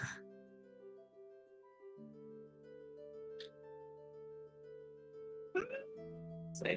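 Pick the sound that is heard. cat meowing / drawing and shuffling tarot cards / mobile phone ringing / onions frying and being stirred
cat meowing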